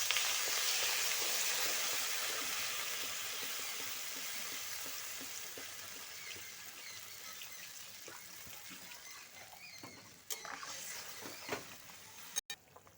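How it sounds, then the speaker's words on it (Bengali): Rohu fish curry gravy with potato and green banana boiling in a pot, a continuous bubbling sizzle that slowly fades, followed by a few sharp clatters of a utensil near the end. "ঝোলটা খুব ভালোভাবে ফুটে উঠেছে আর আমি দু মিনিট মতো এখানে ঝোলটা ফুটিয়ে নিয়েছি"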